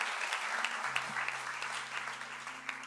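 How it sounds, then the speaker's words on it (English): A church congregation gives a clap offering during a sermon, a steady wash of applause from many hands heard at a distance, with a low sustained tone running underneath. "Give him a clap offering, church."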